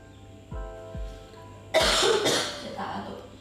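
Two short, close coughs in quick succession from a person during a casual indoor chat, followed by a louder, noisier burst that sounds like a stifled cough or throat clearing.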